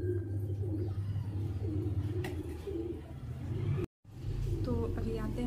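Soft, low pigeon cooing repeats steadily over a constant background hum, with a brief dropout of sound partway through.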